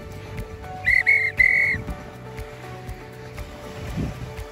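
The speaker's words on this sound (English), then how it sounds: "I don't often use the whistle, but just in case there's people about, sometimes it lets them know that we've got something going on." Three short sharp blasts of a hand whistle during an outdoor lure chase with dogs, set against steady wind and ambient background noise.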